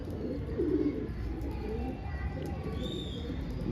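A soft, low coo sounds once near the start from a pigeon perched on a rooftop water tank, set against a steady outdoor hum and faint distant chirps.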